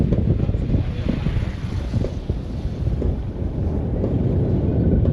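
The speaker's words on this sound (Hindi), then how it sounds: "हवा तो एकदम बिंदास वाली हवा चल रही है, तगड़ी वाली हवा चल रही है, ठंडी ठंडी वाली" Strong, cool wind blows steadily across the microphone outdoors in Ballia district, a constant loud rumbling buffet with no voices.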